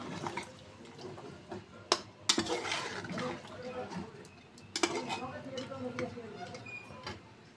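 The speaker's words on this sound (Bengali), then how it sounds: "এখন দিয়ে পানি অ্যাড করে দেব" Water is poured into a spicy mutton (goat meat) curry cooking in a pot, giving a soft running, splashing hiss with clinks of utensils, partly under a person talking.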